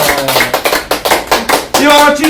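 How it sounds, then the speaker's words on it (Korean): Students in an English class clapping along in a loud, rhythmic pattern of quick bursts, with voices chanting over the claps at close range. "박수 한번 주시고"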